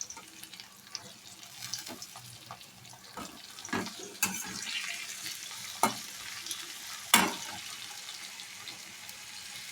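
Chopped tomatoes go into onions already frying, giving a soft sizzle with scraping stir strokes and a few sharper clanks, faint and close with no talk; a brief splash of running water sits in the background.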